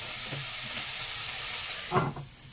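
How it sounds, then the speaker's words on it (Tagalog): Shrimp sautéing in a pan gives a steady broadband sizzle, with a brief louder hiss and clatter near the end, no voices. "igigisa ko muna dito, guys, yung ating hipon"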